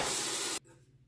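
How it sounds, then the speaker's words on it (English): Water runs from a tap as a razor is rinsed during a shave, a loud, steady hissing spray that cuts off abruptly after about half a second, leaving a faint room hush. "Okay, rinse time."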